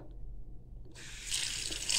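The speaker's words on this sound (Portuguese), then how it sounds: "eu vou encher então o balde aqui. Essa torneira é muito ruim" Water from a tap that works poorly gushes into a bucket, starting after about a second as a steady hiss that grows slightly louder, with no talk.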